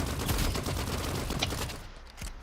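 Assault rifle gunfire in the video game Rivals, loud and close, with rapid sustained bursts that run steadily before tailing off near the end.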